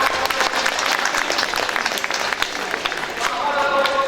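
Audience applause fills the room after a literary reading, a dense, steady clatter of many hands clapping that stays loud and even throughout, with no pause.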